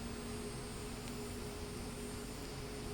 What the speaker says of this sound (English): Okay, engine 1 has got a good start.